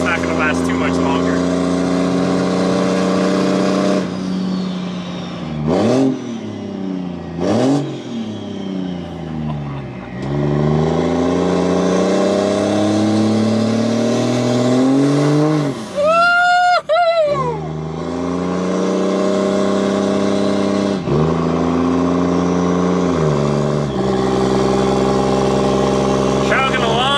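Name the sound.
Cummins diesel truck with compound S400 turbos accelerating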